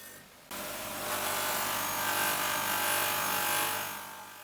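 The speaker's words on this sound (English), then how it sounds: "it was probably worth giving the drum on the end of the grinder a go" A bench grinder's polishing drum works an aluminium cam cover from a 1967 Jaguar E-Type, making a steady abrasive rubbing whir. It starts abruptly after a brief quieter moment and continues close and fairly loud.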